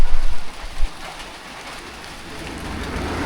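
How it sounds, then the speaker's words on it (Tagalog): Light rain falls on a roadside stop during a long motorcycle ride, a steady hiss of drops that grows slightly denser toward the end, after a few low thumps at the start. "Umuulan na naman na mahina tapos mawawala rin yan."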